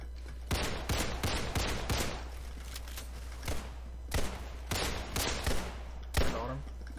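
Gunfire in the Roblox game Criminality, with several fast bursts of sharp, loud shots. The volleys are separated by short pauses across the stretch, and no one speaks.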